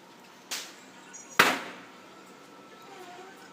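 Firecrackers going off outdoors on a Karva Chauth evening: two sharp, fairly distant bangs about a second apart, the second louder, each trailing off over low background noise.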